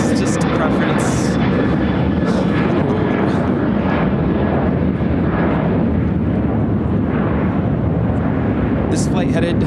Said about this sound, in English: This flight headed to the Bahamas, Nassau, United Airlines 2401 on a 737-800